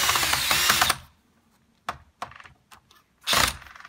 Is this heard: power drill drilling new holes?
yes